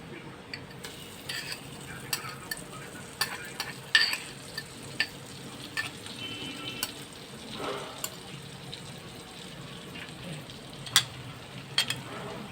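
Butter melting and sizzling in a frying pan while salted-egg shrimp is cooked, a steady low hiss broken by scattered light clicks and scrapes of a utensil against the pan, with no voices.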